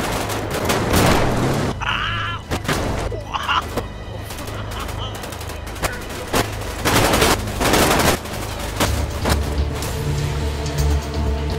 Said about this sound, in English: They're just shooting the living crap out of it.